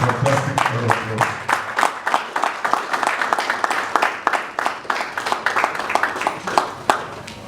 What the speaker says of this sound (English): please, let's do a fantastic round of applause.